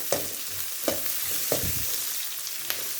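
Onions sizzle steadily in a hot pan for moong dal sambar, a constant fizzing with a few soft stirring taps, close and alone.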